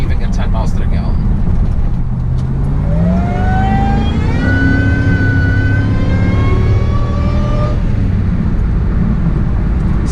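Supercharged Ford SVT Lightning truck engine revs up with a rising supercharger whine climbing over a deep, loud exhaust rumble, holding high for a few seconds before settling back, close and alone.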